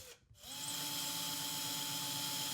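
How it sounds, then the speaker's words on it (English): A drill bores small holes into a ceiling while hunting for a wood joist, a steady close whine starting after a short pause and running on evenly, fairly quiet, with no talk. "a series of small holes can be drilled until the bit encounters solid wood."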